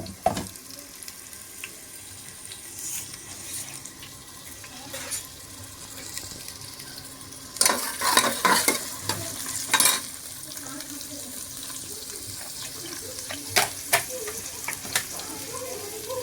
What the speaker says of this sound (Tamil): நல்லா நெருக்கி வச்ச வெங்காயம், பச்சை மிளகா எல்லாத்தையும் நம்ம போட்டுக்கலாம்.